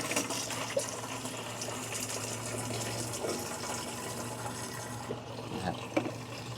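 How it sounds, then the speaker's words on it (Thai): Green water culture poured from a bowl into a drinking water tank, a steady close gush and splash of liquid running for several seconds at moderate level with no talk. "เทใส่ลงไปเลยนะครับ ในถังน้ำดื่ม"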